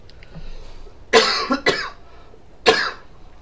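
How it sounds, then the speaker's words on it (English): A person coughs several times in close succession, then a single cough follows after a short pause, loud and close. "I'm going to cough."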